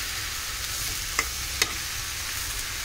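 Vegetable bhaji fries in a pan with a steady, close hiss of sizzling, broken by two sharp scraping clicks from a stirring utensil.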